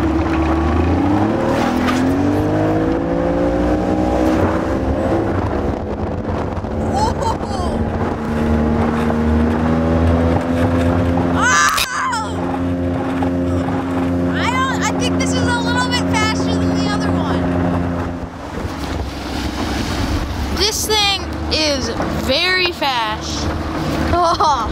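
A Boston Whaler 13-foot Sport motorboat with a Tohatsu 40 hp outboard roars steadily at speed, the engine pitch rising and holding under strong wind buffeting, with people talking over it.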